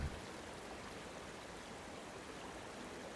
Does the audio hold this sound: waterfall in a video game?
yes